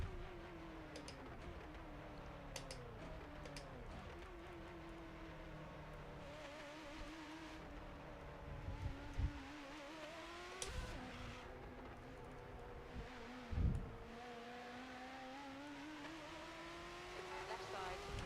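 Race car engine drone in a racing video game, a steady continuous roar with shifting pitch as the car accelerates and changes gear, loud throughout with a couple of brief bumps.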